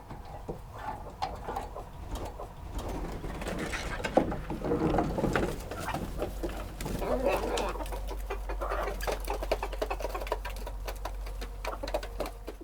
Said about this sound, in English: Once the chickens are happily pecking and scratching away and the coop is vacated